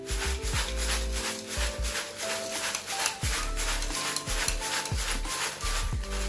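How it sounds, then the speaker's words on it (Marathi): Salt is stirred into poha chivda in a pan with steady, close scraping and rubbing strokes repeating rhythmically, while faint music plays underneath. "मीठ पण टाकते याच्यात आणि मिक्स करून घेते."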